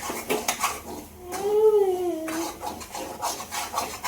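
Ground masala being sautéed and stirred in a kadhai: a spatula scrapes and rubs against the metal pan in quick, uneven strokes, with a short wavering tonal whine rising over the scraping midway through.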